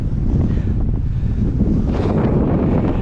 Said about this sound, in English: it's very windy over here because we are going at an elevation